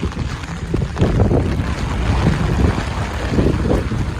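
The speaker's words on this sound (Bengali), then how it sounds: "প্রচুর পরিমাণে বৃষ্টি হইতেছে প্রচুর" Heavy rain pours down outdoors in a city street, a dense, loud wash of noise that swells after the first second and stays strong throughout.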